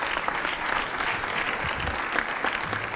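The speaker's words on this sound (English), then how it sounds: "let's give everyone who performed in the other room a round of applause" Audience applause at a mayor's press conference on MLK Day of Service: a steady, moderately loud wash of many clapping hands, even and continuous with no voices standing out.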